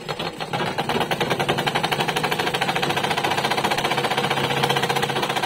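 A tailoring sewing machine runs noisily at a fast, steady rattling rhythm, loud and close with a mechanical knocking from a fault, continuing without pause.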